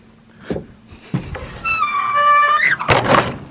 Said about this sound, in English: Close up the door.